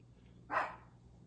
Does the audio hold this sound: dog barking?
yes